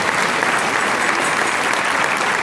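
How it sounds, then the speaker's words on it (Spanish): An audience at a televised event applauds, a dense, steady burst of clapping that stays loud and even throughout with no voices standing out. "Un aplauso para Agroquímico Rivas, que amablemente también nos ayuda."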